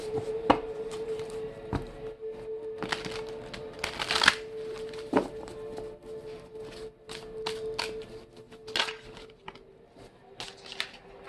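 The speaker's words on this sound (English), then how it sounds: "I'm gonna get some cards for your twin flames energy right now." Tarot cards are shuffled and flicked by hand, giving a run of soft riffling bursts and sharp card taps with a steady faint hum underneath, close and fairly quiet, with no talking.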